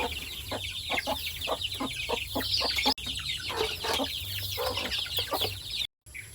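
Hens penned in a coop cluck steadily in rapid, overlapping bursts, close and fairly quiet, with a brief dropout near the end and no talking.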